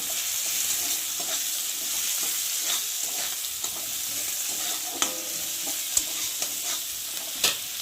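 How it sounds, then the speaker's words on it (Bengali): Onion and green chili fry in a pan, a continuous hiss of sizzling oil with occasional scraping clicks from stirring, close and steady throughout. "দিয়ে দেবো একটু পেঁয়াজ, দিয়ে দেবো কাঁচা লঙ্কা। একটু ভালো করে ভাজবো।"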